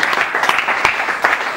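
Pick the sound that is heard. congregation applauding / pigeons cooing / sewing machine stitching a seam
congregation applauding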